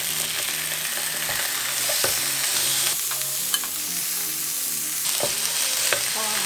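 Thick beef short ribs with whole garlic cloves frying in plenty of oil, a loud continuous sizzle and crackle with occasional pops and spatters, close up and without voices.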